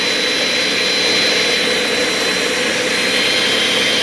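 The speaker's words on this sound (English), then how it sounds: "I add it just to get the blender started" A loud, steady high-pitched motor whine with a constant roaring hum as a Ninja blender runs continuously close by, blending vegetables.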